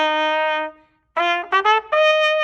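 A trumpet at a school band and orchestra demonstration plays one held note, falls silent briefly, then plays a few short tongued notes and a final sustained tone, clear and close, with no talking.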